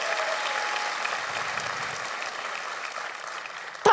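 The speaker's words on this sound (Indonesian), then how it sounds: "Boleh minta tepuk tangannya?" A crowd at a stand-up comedy competition applauds, dense and continuous clapping that stays loud at first and then slowly eases, ending with a sudden sharp burst.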